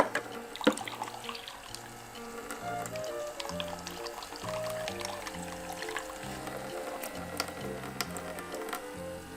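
Water runs steadily from a toy sink faucet as a mother and little girl wash toy dishes, a continuous trickle underneath a repeating electronic toy melody.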